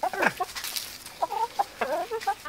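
Laying hens clucking around their coop, a quick series of close, lively clucks and squawks in uneven bursts with short pauses between them.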